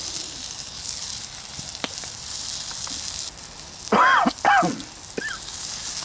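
Dried chillies frying over a campfire at a woodland hammock camp give a steady sizzling hiss throughout, with a few short, raspy vocal sounds near the end.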